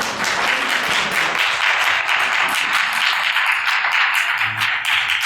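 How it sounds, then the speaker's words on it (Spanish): Audience applause greets a speaker introduced at a talk on parapsychology and consciousness, a steady wash of many hands clapping that fills the whole stretch at moderate loudness without voices. "Un aplauso para él, por favor."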